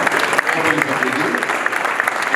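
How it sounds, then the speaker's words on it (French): Audience at an installers' awards ceremony applauding a sponsor, a brief burst of dense clapping from a sizable crowd, loud and close, with some voices mingled in. "on peut les applaudir."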